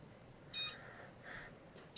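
A kitchen timer beeps in short electronic bursts, two or three spaced beeps standing out clearly over a quiet kitchen background, with no talking.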